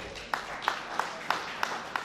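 At a celebration-of-life memorial, a crowd claps in slow, even unison beats about three per second, fairly quiet and slightly distant, over a murmur of background voices.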